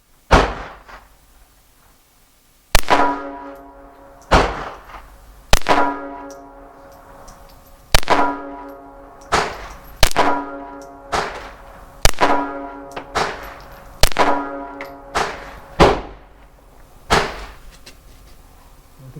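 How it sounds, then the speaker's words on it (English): Six sharp one-handed pistol shots ring out at a target with a Ruger Security 380 or Glock G42, loud and close, spaced irregularly about a second or two apart with echoing decays and a few softer clicks between. "Here we go, 6 shots, top target"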